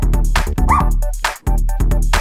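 Cartoonish dog barks and yips inside a children's nursery rhyme song, several short loud barks in quick bursts with a brief pause, up close with no singing over them.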